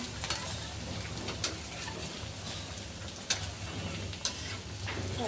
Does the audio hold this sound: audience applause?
no